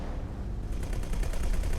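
Rapid run of explosions and weapon fire in the space game X4: Tides of Avarice as defense drones are destroyed during a shipyard attack, with sharp repeated bursts starting after a short lull and growing denser, loud and close, with no talk.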